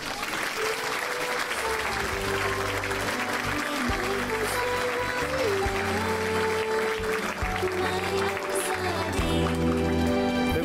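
A television studio audience claps loudly and steadily to welcome two guests, the dense applause running the whole time over bright music.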